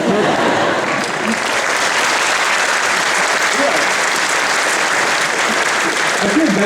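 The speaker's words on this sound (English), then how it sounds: "yeah, you can clap, it's okay." Steady, sustained applause from a large audience fills the whole stretch at an even level, with no voices breaking through.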